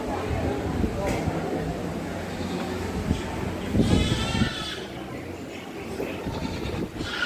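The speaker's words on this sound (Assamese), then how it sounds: "ছাগলী, ইমান ডাঙৰ ছাগলী।" A large goat bleats once, a wavering cry over a constant noisy outdoor background at a temple pond, with voices talking nearby.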